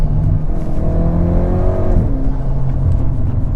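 A Hyundai Veloster N with a dual-clutch transmission drives along, its engine humming steadily and loud inside the cabin as the exhaust burbles and the pitch drops while easing off.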